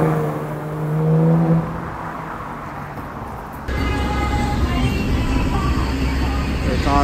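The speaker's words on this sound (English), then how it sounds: "I hear an Aventador. It's actually a Ferrari 458." A Ferrari 458 engine revs on a New York City street among traffic, a loud droning tone that rises, then gives way to a denser, harsher roar partway through, with talk in the background.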